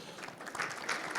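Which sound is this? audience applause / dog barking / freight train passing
audience applause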